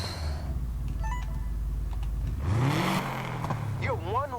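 A modified Subaru Impreza WRX STI in the racing game NFS Heat drones at a steady engine note, then revs up and sweeps in pitch, while someone talks and sighs over the engine noise.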